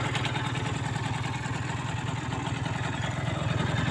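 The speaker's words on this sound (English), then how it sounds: "I know you people love exhaust sounds." An Aprilia Gulliver 50 scooter engine idles with its exhaust note, a low, steady putter of rapid, even pulses that runs continuously and fairly close, with no talking over it.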